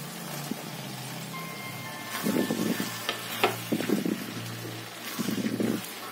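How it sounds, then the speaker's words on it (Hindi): Tomatoes go into a spiced Bihari-style flat bean sabzi frying on low heat, bringing a soft steady sizzle and a few bursts of spatula stirring and scraping nearby, with no speech. "टमाटर डाल के भी इसको हमको 5 मिनट के लिए धीमे आंच पे अच्छे से भूनना है।"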